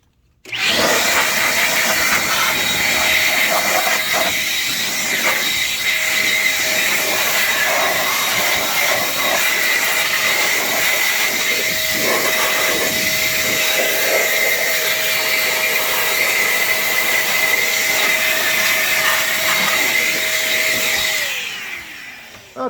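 A Meco electric air duster blower blasts debris out of a computer case, a loud continuous high-pitched whine that switches on abruptly, holds steady for about twenty seconds and then winds down, with no talk.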